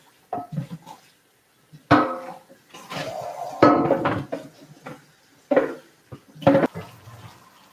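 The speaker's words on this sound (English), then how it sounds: "I'm just rinsing out this skillet" A skillet being rinsed in a kitchen sink, with bursts of running water and clanking metal on metal coming in separate close splashes and knocks, with short silences between them.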